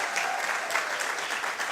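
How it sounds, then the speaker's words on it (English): A brief, dense burst of audience clapping comes from a crowd honouring the top three finalists of a Rotaract Club of Grenada competition. The clapping is steady and moderately loud, with no voices over it. "Once again, can you put your hands together for our top three?"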